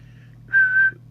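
A single sustained whistle, about half a second long, is blown into the microphone of an Amstrad CB900 CB radio. It rises clear and loud above a steady low electrical hum.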